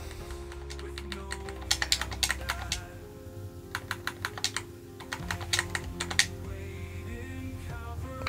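A search is typed on a computer keyboard in quick bursts of clicky keystrokes, separated by short pauses, close and fairly quiet, with no talking.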